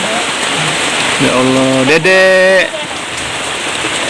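Heavy rain pours onto a leaking house, a loud, steady hiss of drops throughout. A voice calls out briefly partway through.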